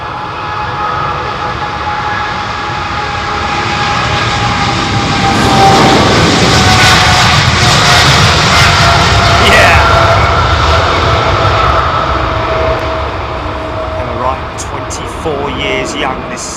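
A Boeing 777 jet airliner on a derated takeoff from London Heathrow builds into a loud, broad engine roar that swells toward the middle and then eases, with a voice talking over it throughout.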